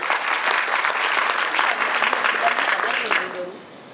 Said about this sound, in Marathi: ताईंसाठी एकदा जोरात टाळ्या होऊन जाऊ द्या